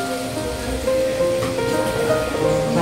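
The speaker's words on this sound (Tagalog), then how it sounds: "kailangan natin dagdagan ng tubig" Water poured into a pan of cooking pork for a Filipino guisado dish, giving a steady splashing, bubbling wash with a faint tonal hum beneath, moderately loud and continuous.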